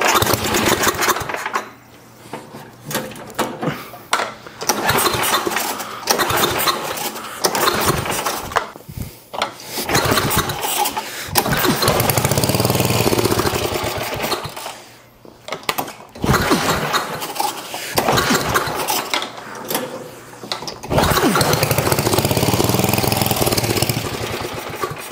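A 50-year-old lawn mower engine is cranked over repeatedly, sputtering and catching in rough bursts between pulls before settling into a loud, uneven running chug close by.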